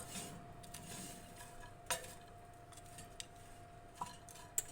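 Apple crumble being stirred in a baking dish, quiet scraping of a utensil against the dish with a few sharp clinks standing out over a steady low background hum.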